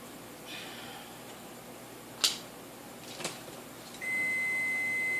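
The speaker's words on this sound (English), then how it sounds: "And there's my timer" A timer gives a high, steady electronic beep that starts after a few faint clicks and taps and sustains to the end, fairly quiet in a calm room.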